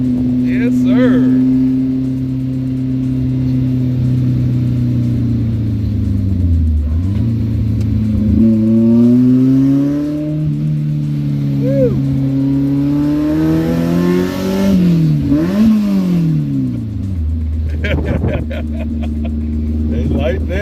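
A Fiat X19 engine revs and accelerates loudly and up close, pitch climbing and falling through several gear changes, with people talking over it.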